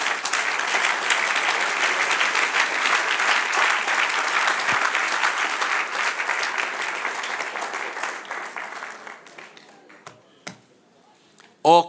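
Congregational applause at a church sermon, a dense, loud sustained clapping from a large crowd that fades out over several seconds, ending with a few scattered claps.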